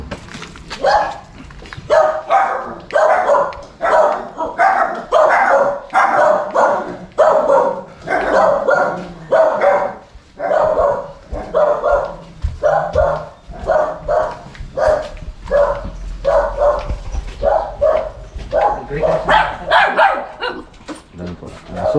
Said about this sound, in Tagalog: Ayan po, aso.